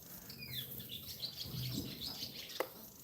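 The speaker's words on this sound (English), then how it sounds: "Can you hear the birds as well?" Small birds chirp and tweet outdoors at a lamb pen on a farm, with several short, high calls scattered over a soft background hiss and one sharp click near the end.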